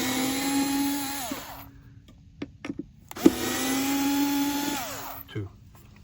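A power screwdriver backs out the two screws of a thermostat cover in a Braxton Creek Skinny Guy camper, whining in two long bursts that slow to a stop, with small clicks and taps between them.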